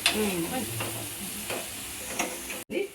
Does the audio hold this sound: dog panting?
no